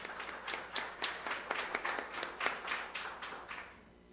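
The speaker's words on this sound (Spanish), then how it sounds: "Así que les pido un fuerte aplauso para Natalia Ovelar y las dejo con ella." Audience applause welcoming a speaker at an academic talk, a quiet, somewhat distant patter of many hands clapping that continues for about four seconds before fading away.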